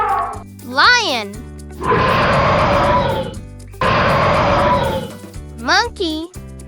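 A lion's roar from a children's animal sounds song, two long broad roars in succession between bursts of sung melody and music, loud and close.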